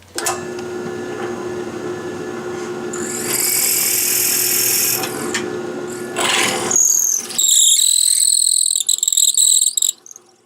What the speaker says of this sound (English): I've got a 27/64 drill bit, and I'm using a Penmaker's drill bit